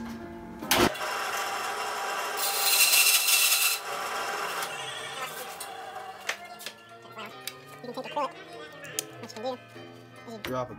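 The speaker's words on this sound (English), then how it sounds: "Turn on the bandsaw real quick." A bandsaw cuts a piece of acrylic in a short, harsh hissing burst of about a second, followed by scattered clicks and handling knocks.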